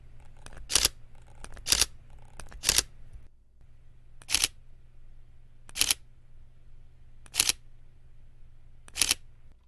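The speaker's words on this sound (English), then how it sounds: "listen to what it sounds like when the electronic front curtain shutter is disabled, so it's being done mechanically" Sharp mechanical shutter clicks from a Sony a7R III camera with electronic front curtain disabled ring out one at a time, about seven in all, spaced a second or more apart over a faint low hum.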